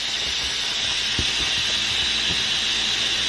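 Steam hisses loudly and steadily from an Instant Pot pressure cooker's release valve, a continuous broad rushing spray close to the listener, with faint knocks underneath.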